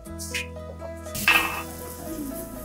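Onions dropped into a hot pan catch with a sudden sizzle after a few metallic clinks of pan and utensil, the frying hiss continuing close and fairly loud to the end.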